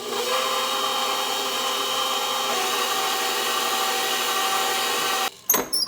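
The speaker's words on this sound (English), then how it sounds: "We're going to beat that together until fluffy and pale yellow." A stand mixer beats a thick custard of milk, semolina and cornstarch with a steady, loud whirring hum that holds for about five seconds, then cuts out abruptly and leaves a few short clunks.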